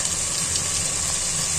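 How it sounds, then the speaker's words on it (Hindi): Water splashed into a pan of sizzling spices, salt and tomato for aloo gobhi, giving a steady broadband hiss and bubbling sizzle that stays loud and even throughout, with no talking. "थोड़ा सा हम देंगे पानी का छींटा"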